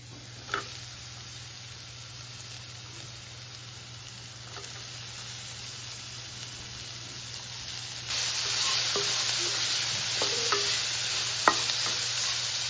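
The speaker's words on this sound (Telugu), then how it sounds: "ఇవన్నీ వేగిపోయాయండి." Onions fry in oil in a pan for puffed rice upma, giving a continuous close sizzle with occasional sharp clinks of a stirring spoon. The sizzle grows louder and brighter partway through. No voices are heard.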